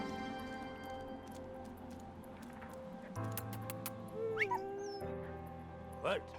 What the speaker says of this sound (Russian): Песик.